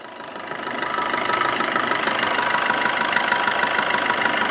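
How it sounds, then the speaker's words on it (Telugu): A 2018 Maruti Dzire tourist taxi with a diesel engine idles close by, a steady, even knocking hum that swells slightly in the first second and then holds level. "ఇంజన్ కానీ బీటింగ్ కూడా చాలా సైలెంట్గా ఉంది"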